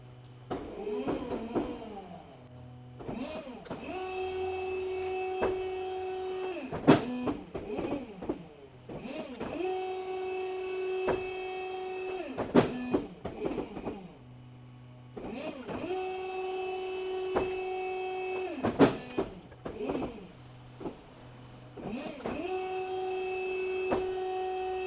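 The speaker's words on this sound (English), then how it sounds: "we'll take both of these over to the folding machine and bend those up" A folding machine bending COLORBOND metal sheet into 90-degree folds, with repeated cycles of a steady motor whine broken by loud clanks and thuds as each bend is made.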